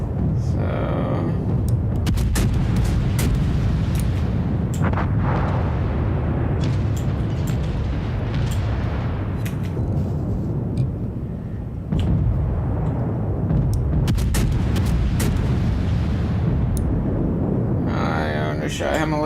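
Warship cannons boom in the World of Warships naval battle game, heavy rumbling blasts and bursts rolling over a constant low engine drone, with a player's voice talking over much of the action.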